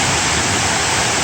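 Steady, full broadband rush of a waterfall at Mayo River State Park in North Carolina, a continuous close roar of falling water with no voices.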